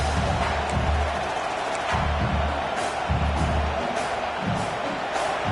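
A stadium crowd at a Nebraska football game roars in a broad, sustained rumble, with rhythmic low thumps of chanting or stomping rising and falling.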